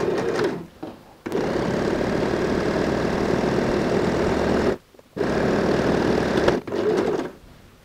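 A sewing machine runs steadily as it stitches lining to bag fabric, with a continuous close whir broken by two short pauses.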